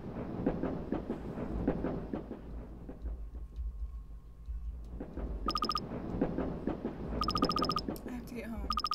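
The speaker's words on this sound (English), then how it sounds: "Train." Train passing in the video game Lisa the First, a broad low rumble with rhythmic clatter that swells and fades across the clip while game music chimes overlay it, with no speech.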